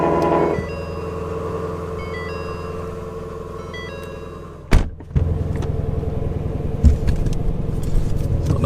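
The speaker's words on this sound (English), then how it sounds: "So that was one of the more vicious cold starts, because it is very cold outside." A Ford Mustang GT350 engine cold-starts on a very cold day: a starter whine and sharp crank, then a loud burst as the V8 catches and settles into a rough, rumbling idle close by.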